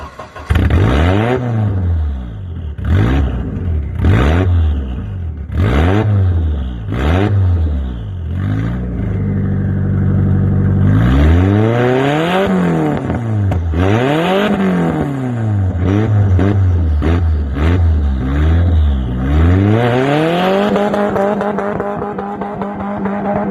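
A truck engine, the same type of motor planned for a Volvo 240 build, revs hard in repeated sharp bursts, then holds longer sweeping climbs and drops through the revs, loud and close with no talking.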